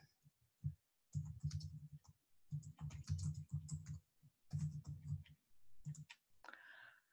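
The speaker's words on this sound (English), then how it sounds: "now we can see my grade 10's typing skills" Typing on a computer keyboard, bursts of rapid clicking keystrokes broken by short pauses, close and fairly quiet, with no talk over it.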